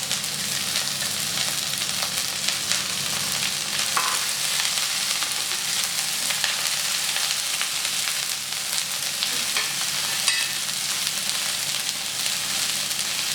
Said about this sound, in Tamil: இதெல்லாம் பொரிஞ்ச உடனே வெங்காயம் போடணும்.